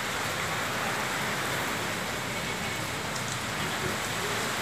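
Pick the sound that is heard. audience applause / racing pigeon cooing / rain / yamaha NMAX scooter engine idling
rain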